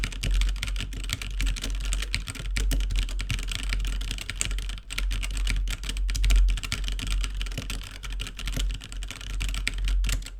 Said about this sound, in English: So we'll go ahead and type on the keyboard